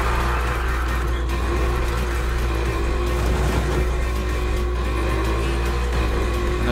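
A car engine in the racing game NFS Heat drones and revs loudly and continuously during a drift at a dockside setting, a steady close mechanical roar with slight swells in pitch and no talk.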